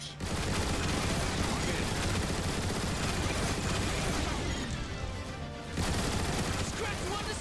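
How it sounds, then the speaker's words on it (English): Turret gun emplacements fire in War for Cybertron, a dense, sustained barrage of rapid gunfire that goes on for about seven seconds with a brief dip near the end. "I think you can take them out with the gun emplacements."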